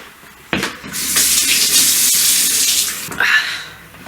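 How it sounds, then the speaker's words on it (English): Tap water runs in a steady gushing stream for a few seconds into an emptied tomato can to rinse out the leftover sauce, starting abruptly and cutting off near the end, close and loud. "I'm going to rinse this with a little bit of water, just a little bit"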